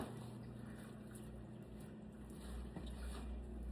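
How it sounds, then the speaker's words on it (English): A dishwasher runs in a home kitchen, giving a steady, even whooshing hum throughout, faint and in the background, with no speech over it. "Got the dishwasher going in the background."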